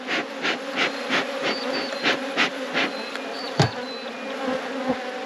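Honeybees buzzing over an open hive during an inspection, a close, dense hum with repeated swelling pulses and a few sharp clicks of handling near the end, with no talking.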